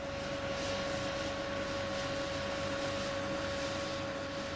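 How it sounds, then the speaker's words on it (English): Blower pumping a blast of air into a coke forge, a steady, continuous droning roar with a sustained tonal hum, unbroken throughout. "The oxygen is supplied from a blast of air which is pumped into the coke by a blower behind the forge"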